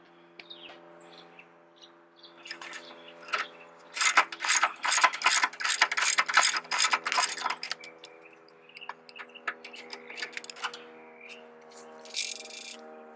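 A hand ratchet clicks rapidly in bursts while loosening motor mount bolts on a 1998–2002 Honda Accord, the close, crisp pawl clatter coming in several runs of quick strokes with pauses between.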